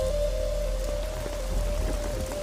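Steady rain falling close by, a dense hiss of drops pattering on a surface that runs evenly throughout with a faint constant hum beneath and no talk.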